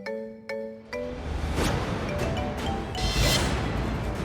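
A phone rings in a few short electronic tones, then a louder whooshing, clattering burst of sound effects follows, moderately loud throughout.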